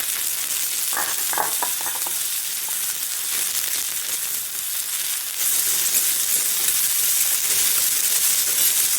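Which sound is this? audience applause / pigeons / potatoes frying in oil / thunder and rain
potatoes frying in oil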